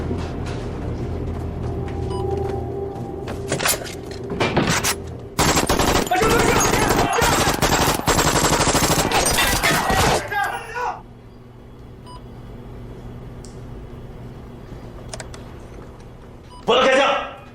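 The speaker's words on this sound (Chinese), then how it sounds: "说了不要开枪，为什么开枪？" Bursts of automatic gunfire in a Chinese spy film scene, loud and rapid for several seconds with a fusillade at its peak, then falling away to quieter shouting and background noise.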